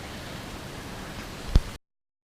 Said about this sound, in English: got caught in the rain there